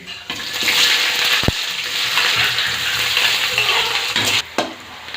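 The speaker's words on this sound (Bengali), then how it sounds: "পেঁয়াজ হালকা ফ্রাই হয়ে গিয়েছে" Chopped onion fries in oil in a wok with dried chilli and five-spice seeds, a continuous close sizzle with stirring scrapes and one sharp tap of the utensil.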